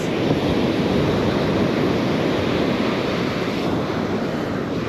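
Ocean waves wash steadily onto a beach where people are fishing, a continuous loud roar of surf with wind noise hitting the microphone and no talking.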